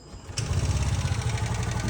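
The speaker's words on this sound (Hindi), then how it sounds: "ये हमारा इंजन स्टार्ट हो गया" A TVS Jupiter scooter engine fires up after a quiet silent-type self starter, settling into a steady low idle rumble close by with no talk over it.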